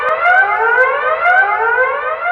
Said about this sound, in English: A recently installed 120 decibel alarm that sounds when the bank of mailboxes is illegally opened